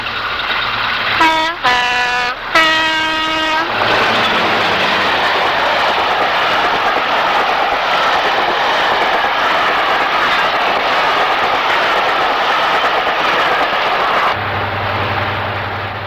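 A Class 55 Deltic locomotive, Tulyar, hauls the Hadrian Flyer railtour at Armathwaite on the Settle–Carlisle line, a horn blast opening into a loud, sustained diesel engine roar and rumble of the train passing close by.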